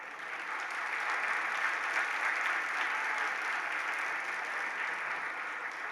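An audience gathered at a temple discourse claps steadily for about six seconds, a soft, even wash of applause heard from some distance with no voices over it.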